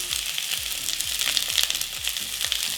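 Sliced onions and jalapenos sizzle in hot canola oil in a pan, a loud, dense, continuous crackle with no talking.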